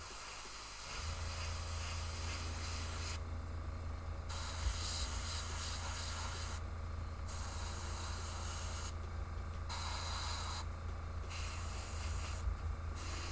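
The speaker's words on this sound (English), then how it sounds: "how much I'm actually airbrushing into it" Airbrush spraying paint onto a Redemptor Dreadnought miniature, a steady close hiss running almost continuously and cutting out briefly several times as the trigger is released.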